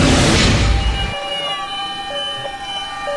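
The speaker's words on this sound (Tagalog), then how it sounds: "Umalingaw-ngaw kaninang umaga ang mga sirena ng bumbero" Fire truck sirens from a morning motorcade of over 160 volunteer fire engines in the Manila area. Several wailing sirens rise and fall over one another after a burst of broadband traffic noise, loud and fairly close.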